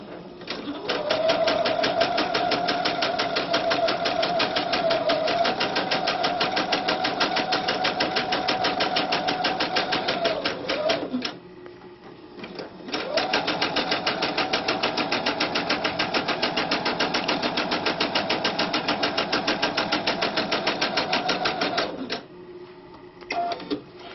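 Sewing machine running steadily as it stitches cording into fabric through a piping foot, a close, continuous rapid mechanical whir in two long bursts separated by a brief pause.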